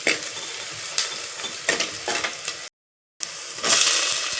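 Chopped onions sizzle and hiss as they sauté in a pan for a spicy dried-fish curry with garlic, with steady frying crackle and stirring scrapes and a brief silent break midway.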